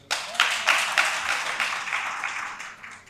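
Audience applause at a political speech: dense, sustained clapping from a crowd, swelling in several bursts early on and then tapering gradually, with no voices over it.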